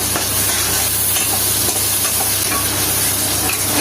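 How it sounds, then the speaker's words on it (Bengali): Onion frying in oil in a home kitchen, a steady, close hissing sizzle with a low background hum and faint clicks, no talk. "পেঁয়াজটা এবার লাল লাল করে ভেজে নিল।"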